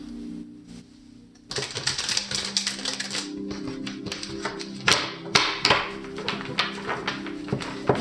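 Tarot cards being shuffled by hand in stubborn chunks, a quick run of crisp riffling taps and snaps close by after a brief quiet start, with sharper bursts near the end.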